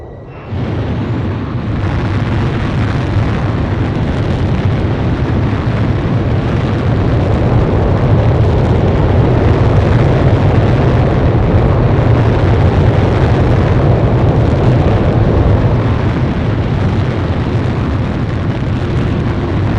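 A fighter jet in Ace Combat Zero roars through takeoff, a loud, broad, continuous engine rush that swells in the first seconds and holds steady and powerful throughout.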